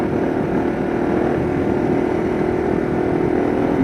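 A Kawasaki KLR motorcycle engine droning steadily while being ridden, a loud, continuous, even motor rumble with no speech.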